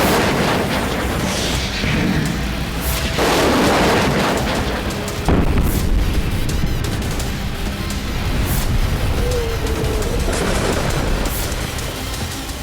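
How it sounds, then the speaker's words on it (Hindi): Rocket explosion at the Kerch bridge, heavy booms and blasts rolling one after another with loud crackling bursts, dense and continuous over a rumbling background, no talking. "इस धमाके की वजह से कर्च ब्रिज और कई मील दूर तक का इलाका दहल गया"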